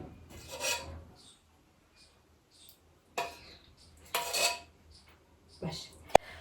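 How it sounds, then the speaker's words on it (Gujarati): Dough being kneaded by hand with a little oil for dal dhokli, heard as intermittent soft squishing and rubbing bursts with quiet gaps between them and one sharp click near the end. "થોડું તેલ નાખીને હું ભાઈ લોટ બાંધી લઉં છું"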